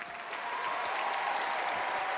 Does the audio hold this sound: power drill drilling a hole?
no